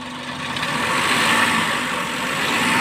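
A car engine running under sensor testing with a pulse width modulation signal: a steady idle that rises slightly as it is revved, with no talk.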